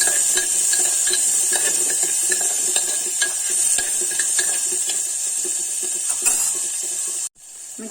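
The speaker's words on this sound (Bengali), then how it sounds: "এগুলো দিয়ে আমি একটু হালকা ভাজা ভাজা করে নেবো" Chopped vegetables lightly frying in a pan with cumin, a steady close sizzle and hiss with occasional stirring clinks, cutting off abruptly near the end.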